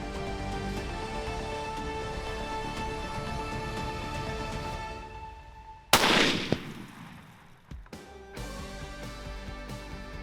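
A single sharp rifle shot from a 7 LRPC firing a 180 grain Hornady ELD-M at about 3,200 feet per second during a South Texas deer hunt on a ranch, loud and sudden, with a brief outdoor echo and a second crack under steady background hum.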